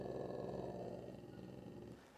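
A young Cane Corso dog growls in a low, continuous rumble, close and fairly loud, fading slightly toward the end.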